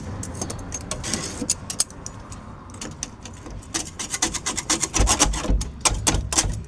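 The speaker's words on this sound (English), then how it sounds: "this is not your putty knife, this is your scraping knife" Old window putty being scraped off with a sharp scraping knife, a run of dry, rasping strokes that grows busier and louder toward the end, with no talking.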